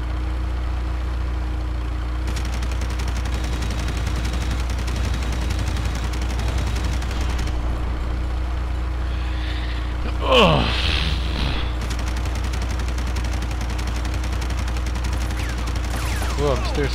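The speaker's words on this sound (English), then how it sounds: "I don't have to stop firing, I've just got so much ammo." Continuous gunfire from the video game Red Faction, a steady dense rattle over a constant low engine-like hum, with a brief louder burst midway.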